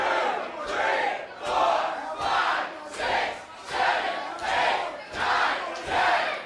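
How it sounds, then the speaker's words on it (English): A pro wrestling arena crowd roars during a match, loud rhythmic cheering and chanting swelling in steady waves about every second, dense and continuous with no clear individual voices. "Crowd's going crazy"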